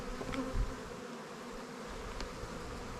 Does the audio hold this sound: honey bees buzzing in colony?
yes